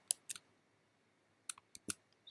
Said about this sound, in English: So I'll just simply type this command.